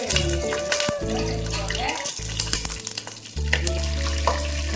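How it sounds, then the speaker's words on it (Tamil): Whole spices and about ten broken cashews fry in oil as the tempering for a vegetable biryani, giving a steady sizzle with tonal music-like hum and occasional clinks, no talk heard. "இது தாளிக்கிறதுக்கு நம்ம பைசஸ்லாம் சேர்த்துக்கலாம்"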